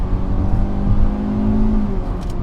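A Hyundai Alcazar's 1.5 liter petrol engine revving hard toward its redline, a loud, sustained rising drone heard from inside the car with no one speaking.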